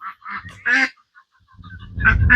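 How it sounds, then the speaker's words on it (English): Several loud honking calls from ducks on a farm coop in quick succession, followed by a pause and then a noisy burst of honks and rustling close by. "There's another duck. More ducks in there."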